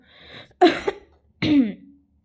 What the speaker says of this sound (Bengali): এখন আমার অল্প স্বল্প কাশি হচ্ছে